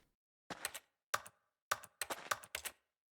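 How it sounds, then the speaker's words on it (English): Clacky keyboard typing sounds inside the video game The Stanley Parable, in several short bursts of rapid keystrokes separated by brief silences, fairly close and with no talking. "Why does it sound like I'm hitting keyboards when I am not doing that?"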